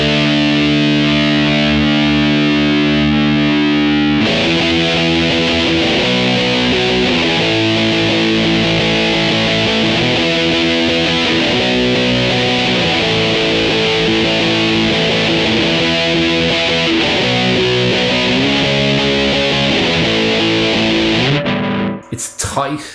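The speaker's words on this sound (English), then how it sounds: "It's tight, it's super distorted, but it's also pronounced, and for lead stuff, it'll just sustain for days." An electric guitar on a bridge humbucker runs through Mosky Mini Muff fuzz and Mini Screamer overdrive pedals stacked together. It plays loud, tight, heavily distorted riffs with sustained chords for about twenty seconds, then cuts off abruptly.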